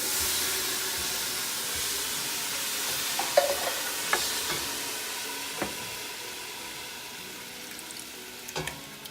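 Tomatoes hit a hot pan for a vegan tomato soup, bringing a steady close sizzle and hiss with occasional clinks and scrapes of a stirring utensil, and no one talking.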